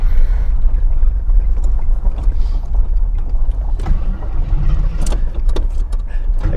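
An old car, driven for the first time in over twenty years, runs with a steady low engine rumble while rolling up a driveway, with occasional knocks and rattles over the drone.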